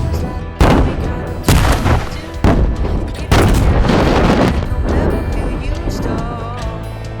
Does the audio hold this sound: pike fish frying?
no